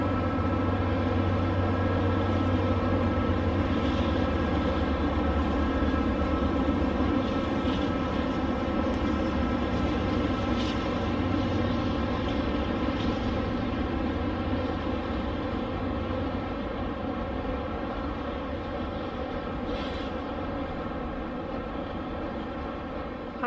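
A long HO-scale model train of the Western Pacific rumbles steadily past at a distance, a continuous low engine drone holding even for the whole stretch, with no voices.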